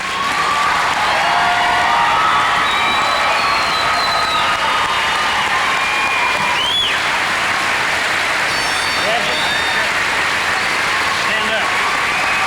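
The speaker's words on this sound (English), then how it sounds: "let's all stand and applaud the graduates" A large crowd applauds the graduates at a graduation ceremony, loud, continuous clapping mixed with cheers and whistles, with voices calling out throughout.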